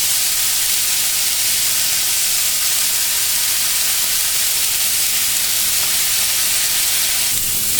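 Shrimp sizzle and spit in a hot pan, a loud and steady frying hiss that runs without a break and flares slightly near the end.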